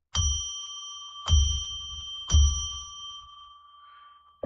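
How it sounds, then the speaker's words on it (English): A small bell is struck three times at an evenly spaced pace, each clear ding ringing out and fading, the last tone decaying slowly into silence, with no talking. "we're going to ring a bell 3 times now so that we can declare sacred space"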